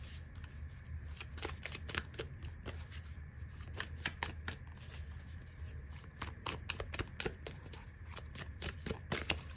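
Quiet, rapid riffling and snapping of playing cards being shuffled, a steady run of crisp clicks with no talk.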